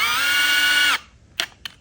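A power drill drives screws into a wooden lazy susan, whirring steadily for about a second before stopping, followed by a couple of faint clicks.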